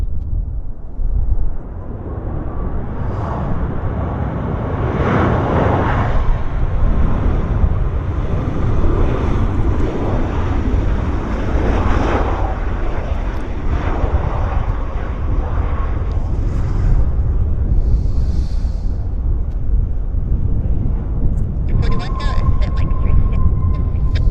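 An airplane lands on a runway at Vancouver Airport in strong winds, a loud continuous roar of engines and wind rush that swells and fades, with a person talking over it.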